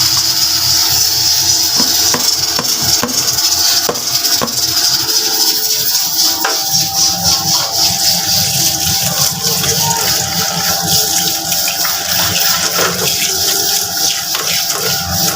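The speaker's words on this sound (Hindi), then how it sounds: "चावलों को अच्छी तरह एक दफ़ा और धो लेंगे।" Rice washed by hand in water in a home kitchen, with loud close sloshing, swirling and splashing that keeps going in uneven bursts and no talking.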